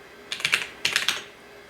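Two quick bursts of keystrokes on the keyboard of a Toshiba T3200 laptop running WordPerfect, close and clear with a short pause between them.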